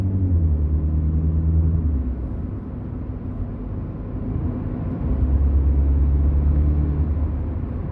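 Engine of a Mini Cooper S in its middle drive mode, a steady loud low rumble from inside the cabin while driving, with engine tones shifting and returning, no talking.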